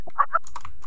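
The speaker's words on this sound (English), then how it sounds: "listen to the keyboard, bro." Fast typing on a computer keyboard while playing Oregon Trail: a quick burst of several crisp, close key clicks, with a couple of louder strikes early on, heard alone without talk.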